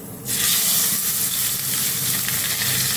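Sankara fish frying in hot oil, a loud, dense sizzle that bursts in abruptly and then holds steady and close throughout, with no voices.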